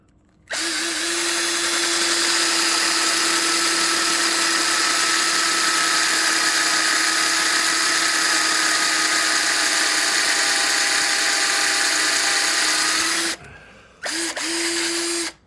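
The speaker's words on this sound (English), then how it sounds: "I'm gonna have to drill those out." A power drill whirs steadily and loudly for about thirteen seconds drilling out hinge holes, stops briefly, then gives one more short burst.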